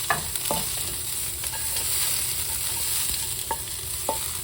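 Onions frying in a pan for beef curry, a steady close crackling sizzle throughout with a few sharp pops and ticks of spattering fat scattered across it, no voices.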